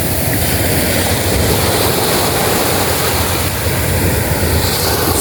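Loud ocean waves break and rush up a clear-water beach, a dense continuous roar of surf with wind, close to the microphone and without voices.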